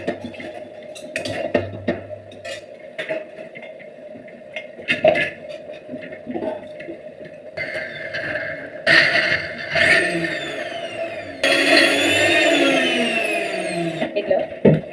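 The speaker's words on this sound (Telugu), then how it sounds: "దీన్ని మిక్సీలోకి వేసుకొని మిక్సీ చేసుకుంటాం." Kitchen mixer grinder whirring as it blends ingredients for a chutney to go with chicken fry, with loud bursts of motor noise and clattering amid household sounds and some talk.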